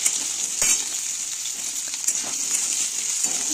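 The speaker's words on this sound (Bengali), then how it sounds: "এরপর আলুগুলোকে হালকা লাল করে ভেজে নেব।" Potato pieces frying in a kadai with cumin seeds, a loud continuous close sizzle with a few sharp stirring clinks.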